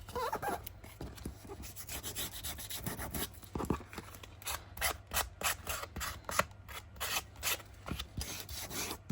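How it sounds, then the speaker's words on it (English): Sandpaper rubs across a paper journal page in quick, rhythmic back-and-forth strokes, a close, scratchy rasp repeating in short bursts. "I love sanding, but whew, it do make some mess."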